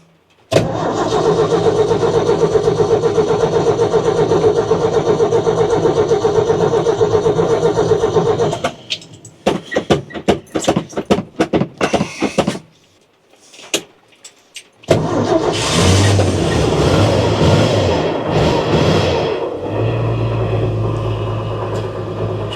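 A motorcycle that has sat unused is started. It idles steadily and loudly, then sputters and stalls into choppy bursts and a brief silence before firing up again and revving, with no talking.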